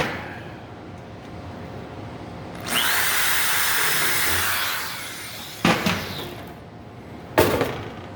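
A power drill bores into wood while a tool caddy is built, one loud sustained whirring burst of about two seconds followed by two short sharp bursts, with quiet room noise between.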